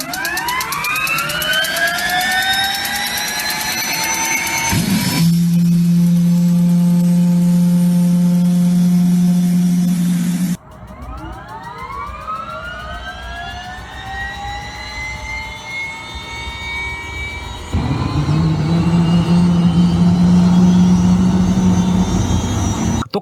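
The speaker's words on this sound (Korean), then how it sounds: "군대에서 많이 본 MD500 엔진과 같은 엔진이죠" A motorcycle powered by an MD500 helicopter turbine engine roars with a piercing, shrieking jet whine, rising and falling in long sweeping swells and sustained high tones, very loud and close throughout, with no voices.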